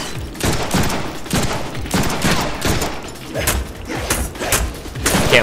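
Gunfire in the Deadpool video game: continuous loud bursts of shots and metallic clatter in an uneven rhythm, dense and close throughout the few seconds, with occasional combat noise mixed in.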